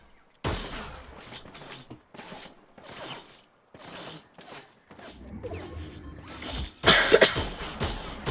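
Gunfire in the Fortnite video game, a series of sharp separate shots spaced about a second apart, then a denser burst of loud cracks near the end, with no talk.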